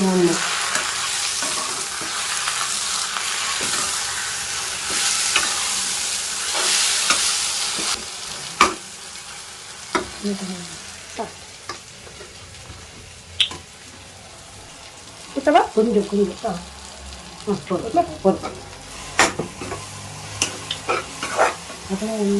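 Gongura leaves sautéing in oil in a pan, a steady sizzle and frying hiss with stirring scrapes, loud at first and then thinning into sporadic crackles and clinks, with a brief burst of running water from a tap.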